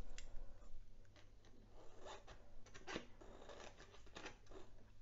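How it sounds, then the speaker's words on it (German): Scissors cutting through stapled paper sheets for a handmade spring lantern craft, a continuous run of close rasping snips and rustles over a faint steady hum. "Und schneide auch die beiden Seiten."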